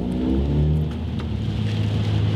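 Honda or Acura car being driven, engine note rising and settling as it revs, a steady mid-pitched drone heard from inside the car, no talking.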